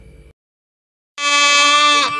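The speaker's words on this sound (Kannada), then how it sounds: "ಕುರಿಗಳೆಲ್ಲ ಬ್ಯಾ ಅಂತ ಇರ್ತವೆ." A sheep lets out one loud, drawn-out bleat lasting about a second, close and clear, after a short burst of other sound and a brief silence.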